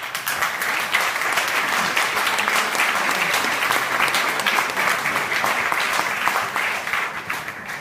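A political audience applauds steadily and loudly, dense clapping sustained throughout with no voices over it, tapering slightly at the very end.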